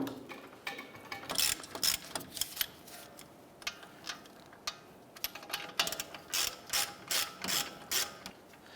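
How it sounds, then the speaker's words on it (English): A ratchet loosens the wheel hub bolts on a 2011-2018 Ram 1500, giving quick bursts of sharp metallic clicking in repeated strokes, fairly close, with short pauses between runs. "Once those are loose, we'll switch over to our ratchet."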